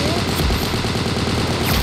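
Rapid, continuous bursts of M1919A6 machine gun hip fire in the Vietnam-era shooter Unit 1968, loud and dense throughout with no pause, with a voice faintly mixed in beneath the shooting.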